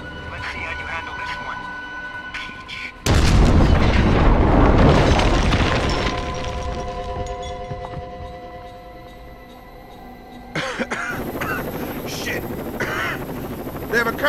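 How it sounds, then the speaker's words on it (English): A combat helicopter in the shooter game Rainbow Six Vegas 2 roars through a loud blast and rotor drone, fading and rising again, with voices talking over the noise. "Can you use it to take down the chopper?"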